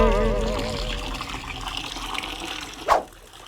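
Water splashes and fills a bucket from a tap in a domestic setting, a continuous rushing pour that swells briefly near the end before fading.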